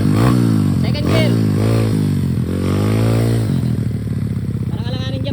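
Motorcycle engine revving and shifting up into second gear while riding in stormy weather, loud and close, the pitch climbing then dropping at the shift, with someone talking over it.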